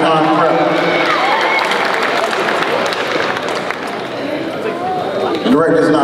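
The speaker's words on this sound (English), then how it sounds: "Let's give them a round of applause." A crowd claps and cheers for a student band honored at a marching band camp awards session, a dense, steady wash of applause that holds for several seconds and swells again near the end, with a voice talking over it.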